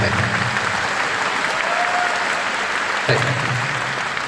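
A big concert crowd at Kai Tak Sports Park claps in a steady, dense roar, and a voice speaks over it toward the end.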